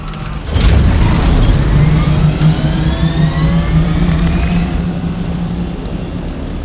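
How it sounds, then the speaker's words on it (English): Ornithopter aircraft from the video game Dune Awakening setting down, a loud sustained engine drone with a steady low hum and sweeping higher whine, rising in at the start and holding throughout with no talk. "I put my chopper down there."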